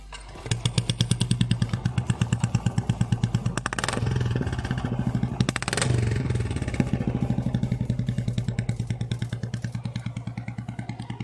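A modified Royal Enfield Bullet Standard motorcycle idles nearby with a steady, thumping exhaust beat, briefly swelling twice as the throttle is blipped, then settling back.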